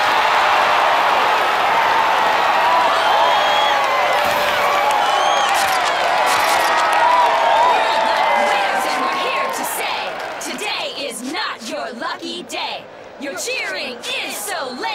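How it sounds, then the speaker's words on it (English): A cartoon crowd roars and cheers steadily for a competitor at a contest, a dense wash of many voices that thins toward the end as someone begins to speak. "Cheering is so lame and vapid"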